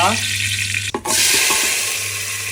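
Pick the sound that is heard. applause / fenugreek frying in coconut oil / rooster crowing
fenugreek frying in coconut oil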